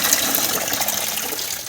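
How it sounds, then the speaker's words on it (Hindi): Onions are washed under a steady stream of running water, with a constant close gushing splash that goes on alone without talk. "प्याज को जी पहले धोएंगे अच्छे तरीके से"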